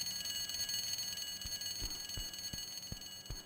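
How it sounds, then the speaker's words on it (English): A continuous electronic alarm rings in Tomb Raider 2 Remastered, a steady layered high-pitched tone with a series of dull, evenly spaced thumps beneath it. "I'm sure they've heard this fucking alarm going off."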